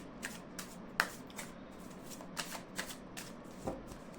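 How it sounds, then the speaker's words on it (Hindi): Tarot cards being shuffled by hand, a series of soft, quiet riffles and taps spaced irregularly. "सबसे पहले मैं सफल कर लेती हूँ कार्ड्स को और कार्ड्स को निकालती हूँ।"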